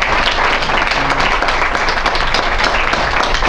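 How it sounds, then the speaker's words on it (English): An audience at an African community talk on water, energy, agriculture and food security gives a round of applause for the artist Monica, a dense, loud and steady wash of clapping lasting several seconds. "we should actually give one more round of applause to Monica,"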